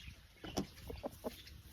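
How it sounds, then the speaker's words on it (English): Roosters kept on a small farm give a few short, quiet clucks spaced irregularly over soft background noise. "2 roosters,"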